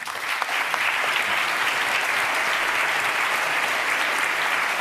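A large audience at an essay competition awards ceremony claps steadily in a dense, continuous round of applause that stays even and loud from start to finish.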